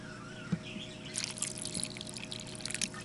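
Water poured for a pet tarantula, a faint thin trickle and dribble with small splashes and clicks, quiet and close, with chirpy background sounds.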